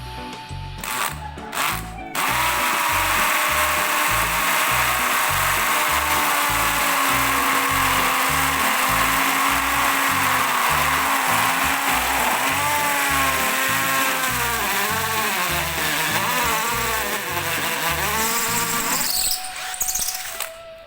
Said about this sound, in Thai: เจาะปูนนี่ มาเจาะกระแทก